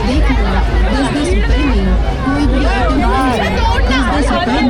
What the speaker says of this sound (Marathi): गर्दी बघा मेल्यामध्ये गर्दी असणं खूप गरजेचं आहे